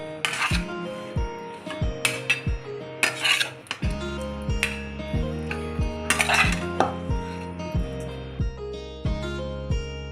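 Sukhadi being scooped and spread onto ghee-greased metal plates, with repeated sharp metallic clanks and scrapes of a spoon against steel plates and a pot, irregular and close, with no talking.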